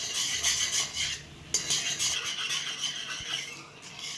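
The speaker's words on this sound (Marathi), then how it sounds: "आता आपल्याला ना हे टाकून घ्यायचं चांगलं सारखं असं हलवत राहायचं" A spoon stirs a gram flour (besan) curry in a pot on the stove. It scrapes and clinks softly and continuously, close and moderately quiet, with no talk.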